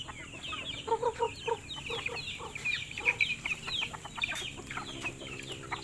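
Chickens on a small farm cluck and cackle in scattered bursts in hot weather against a quiet outdoor background, with a few sharper calls standing out.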